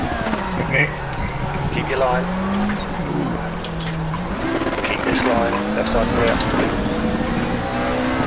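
Race cars driving side by side at Suzuka in the RaceRoom racing game, a steady engine drone rising and falling through gear changes beneath a continuous spoken commentary.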